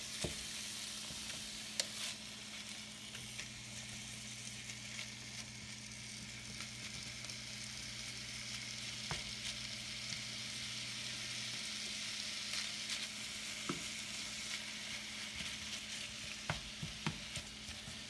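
Ground meat for lasagna sauce fries in a pan with a soft, steady sizzle and crackle. The sound stays faint and even throughout, with occasional small pops and scrapes.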